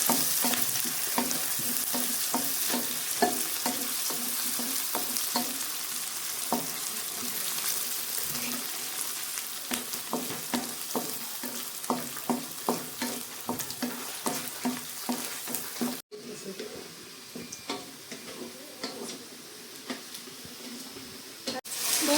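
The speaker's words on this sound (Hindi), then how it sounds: "हम अच्छे से अपने प्याज को भूनेंगे जब तक इसमें ब्राउनिश कलर ना आ जाए।" Onions frying in a pan as they turn brownish give off a steady, fairly loud sizzle, and a utensil stirs and scrapes through them in frequent clicks. The sound cuts briefly near the end and then carries on.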